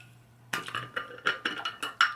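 A glass of water is picked up and handled, giving a quick run of light clinks and knocks with a few sharp glassy taps, close and fairly loud, with no talking.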